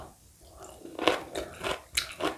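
Close chewing of seasoned pickled chili peppers mixed with chili leaves, a Korean home-cooked side dish, gives a series of crisp, moist bites and crunches that grow louder in irregular bursts.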